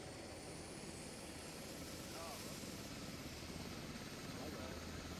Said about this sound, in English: Gonna fire up that helicopter.